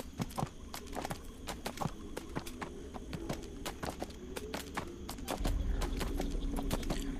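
Horse hooves clip-clop steadily at a quickening walk in the video game Neverwinter, close and clear over a low rumbling game background, with a louder swell near the end and no talk.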